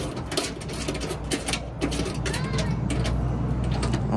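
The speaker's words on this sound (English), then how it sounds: "we'll snug that down with a ratchet on each side" Ratchet clicking in short bursts while snugging flat-washered hood damper bracket bolts into their holes on a 1997–2001 Honda CR-V, close and moderately loud over a steady background hum.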